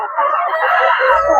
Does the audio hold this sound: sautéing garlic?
no